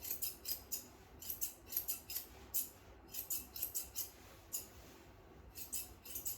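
Scissors snipping repeatedly while trimming a dog's tail during a pet grooming session, a close series of crisp metallic cuts in uneven bursts with short pauses, no voices.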